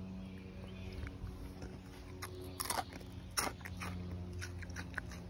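Someone bites into crunchy French fries and chews them close up, with a few sharp crunches standing out against a low room hum. No one speaks.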